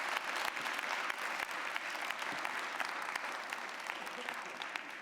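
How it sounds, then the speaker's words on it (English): Applause from the audience at the SIE Summit 2015 as a round of clapping goes to Jonathan, the event's co-host; dense, steady clapping fills the room throughout, fairly even in level and easing only slightly toward the end. "can we have a round of applause for Jonathan?"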